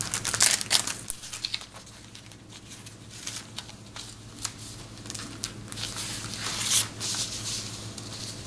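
Thin rice paper crinkles and rustles as it is handled while taking an ink imprint from a carved name chop, with soft, irregular crackles and a few sharper crinkles up close.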